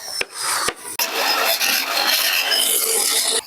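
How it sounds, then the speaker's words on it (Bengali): An electric mixer grinder churns spinach, ginger and green chilli with a harsh, raspy whirring roar, broken by a few sharp clunks and dips in the opening second before settling into continuous grinding. "এগুলো আমি মিক্সিতে এখন দিয়ে দেবো আদা কাঁচা লঙ্কা পালং শাক দিয়ে"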